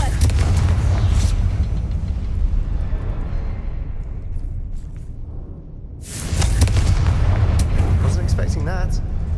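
Booming blast from the Confringo fire spell in Hogwarts Legacy, a loud explosion near the start that decays away, then a second heavy burst after a short lull.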